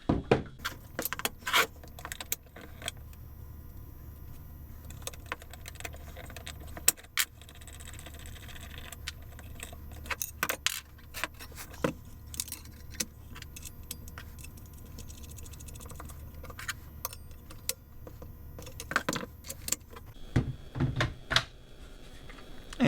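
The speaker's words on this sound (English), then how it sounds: "Let's throw the blade on." Fitting a blade onto a DeWalt FLEXVOLT DCS578 circular saw, close metallic clicks, clinks and rattles scattered irregularly over a quiet background with no talking.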